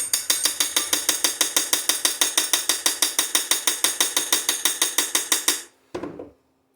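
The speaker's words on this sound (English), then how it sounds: "You want to keep that tapping, because if there's any kind of air gap inside your can, you're not going to have a good forge weld." Metal pieces being packed into a steel can for a forge weld, tapped down in a steady, fast, evenly spaced series of close, bright metallic strikes lasting several seconds, then a brief pause and one final ringing hit.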